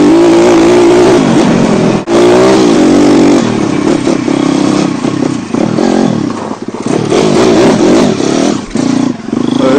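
A dirt bike engine roars loudly up close while riding, revving and surging with rattles and clatter from rough ground, with no voices.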